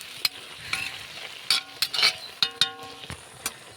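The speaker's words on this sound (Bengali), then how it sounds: "এবার এটাকে ভালো করে একটু নাড়িয়ে নেব" Pui shak (Malabar spinach) stirred in a pan, with intermittent utensil scrapes and light metallic clinks over a faint sizzle.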